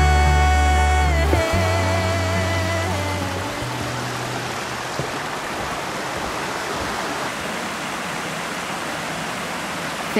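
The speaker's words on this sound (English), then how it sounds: "Phantom Creek." Phantom Creek, a local creek near Dosewallips State Park, rushes in a steady broadband wash; musical tones fade out over the first few seconds, leaving continuous flowing water alone.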